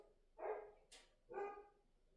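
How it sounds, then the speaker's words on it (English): Two or three quick barks from dogs outdoors, faint and distant, spaced about half a second apart against quiet. "You'll have to excuse the dogs outside."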